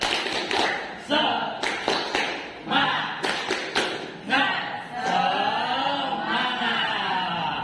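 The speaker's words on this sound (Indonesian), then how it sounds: "Coba semuanya kita tepuk semangat" A school class performs a rhythmic cheer routine, with sharp, evenly spaced claps and taps mixed with voices chanting along, followed by a stretch of talking.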